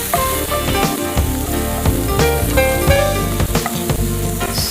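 Paneer pulao ingredients frying in a pan on a TV cooking show, a steady close sizzle running throughout with faint clinks of a utensil and a dense, bright hiss.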